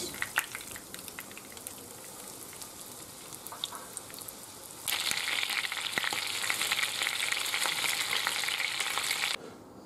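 Chicken pieces fry in hot oil in a home kitchen, with a steady crackling sizzle that swells sharply about halfway through as more chicken goes into the pan, then cuts off near the end.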